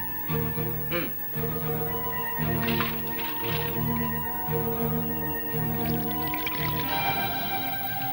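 Feet being washed with water, soft splashing and trickling squishes in irregular bursts over a steady background of musical drone, close and fairly quiet.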